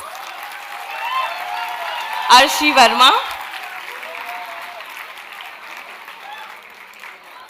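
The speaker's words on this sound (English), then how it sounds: "Students, can we please have a round of applause for these graduating students?" Applause for graduating students fills a convocation hall as a background patter, while an announcer reads out names over it.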